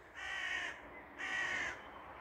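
A crow caws twice in harsh, drawn-out calls during a territorial fight with magpies over a tree, fairly close and clear with quiet pauses between.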